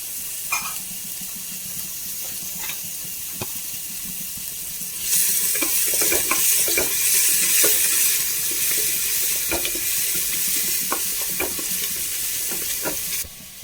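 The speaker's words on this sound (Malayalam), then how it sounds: "നമുക്ക് അരിഞ്ഞ ഉള്ളി ഇട്ട് കൊടുക്കാം കേട്ടോ, ചെറുള്ളി. അതൊന്ന് മൂത്ത് വന്നട്ടെ." Chopped shallots fry in hot oil in a pan, giving a continuous close sizzle that grows louder partway through, broken by the sharp scrapes and taps of a spoon stirring them.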